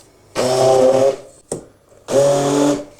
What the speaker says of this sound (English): we'll blitz those together to make a nice creamy mixture